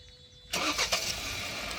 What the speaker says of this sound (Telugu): వెహికల్ స్టార్ట్ చేస్తాడు, చూడండి